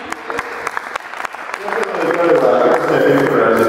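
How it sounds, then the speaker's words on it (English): Audience applause for Rosie at a cricket show: a few scattered claps at first, then building into a full, steady round of clapping, with people talking over it. "Round of applause for Rosie."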